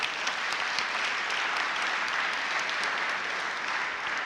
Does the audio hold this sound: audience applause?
yes